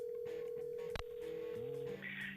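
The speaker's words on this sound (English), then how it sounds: "Let's check Adam's voicemail" Telephone voicemail playback tones: a steady electronic tone held for about two seconds, cut by a sharp click, then stepped beeps shifting pitch, with faint background hiss and no talking.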